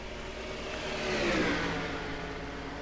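A race car in a racing video game passes by at Euro Speedway Lausitz, its engine whirring and rising to a peak midway, then fading, steady and close.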